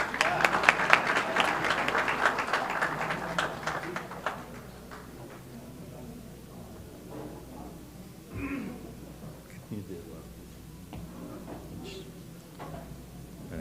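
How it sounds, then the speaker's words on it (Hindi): Audience applause at an international Urdu mushaira poetry gathering; loud, dense clapping for about four seconds that thins into scattered claps, taps and faint room noises, with no one speaking. "मेरा ख्याल है तालियां तो होनी चाहिए ना।"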